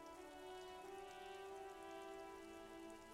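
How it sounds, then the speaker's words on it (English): Steady rain falling over the city of Revachol in the video game Disco Elysium, a continuous soft wash of drops on surfaces beneath a sustained droning musical tone. "All around you, rain falls on the great city of Revachol"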